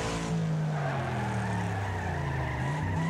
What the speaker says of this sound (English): Oh, wow, what a spin out.